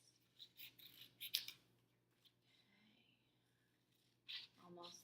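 Scissors snipping out a paper piece for a school interactive notebook, a few quick crisp cuts close by, then paper rustling and another short burst of snips, quiet and unaccompanied by talk.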